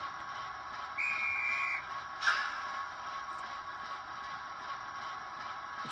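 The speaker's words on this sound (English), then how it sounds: "Okay, so number 10, we've got guard's whistle." A guard's whistle sound plays from a Bachmann Class 08 Deluxe model shunter locomotive's sound decoder, a single short shrill blast over a steady background hum, followed by a brief clunk.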